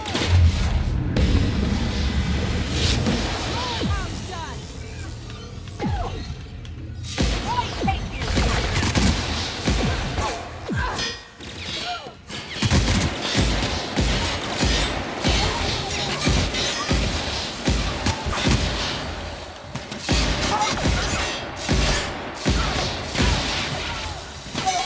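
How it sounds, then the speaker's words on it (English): Heavy, sustained gunfire from a weapon in The Outer Worlds, rapid repeated shots and impacts crowding the whole stretch, loud and close, with a player's voice occasionally breaking through. "this gun is literally just melting them"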